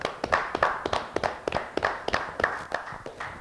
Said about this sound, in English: Let's give a round of applause to our special guest, Mike Sweetney.